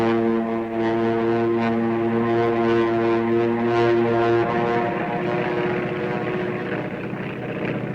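An airplane in flight gives a loud, steady engine drone with strong humming tones that runs unbroken for the whole stretch, with the pitch shifting slightly partway through and no talking.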